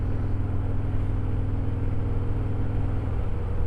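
Motorcycle engine running steadily on a test ride with fresh oil, a loud, even low rumble held throughout with no talk.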